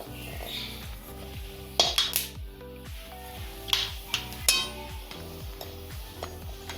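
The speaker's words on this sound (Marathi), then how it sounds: "जायफळ सुद्धा जरा छान तेलावर खरपूस भाजून घेते।" Nutmeg roasts in oil in a pan, a soft frying hiss broken by metallic spoon-on-pan clinks and stirring taps, close but fairly quiet, with no speech.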